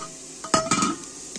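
Whole spices (two small cardamoms, two large cardamoms and a cinnamon stick) are sautéed in a pan, giving a brief burst of sizzling and a couple of quick stirring scrapes.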